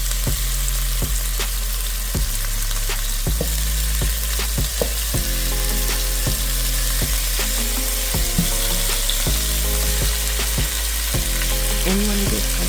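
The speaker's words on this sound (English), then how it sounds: "you want to just continue the process of browning on both sides" Oxtail pieces frying and browning in a hot pan, a steady loud sizzle with occasional pops and clinks of a utensil, no talking.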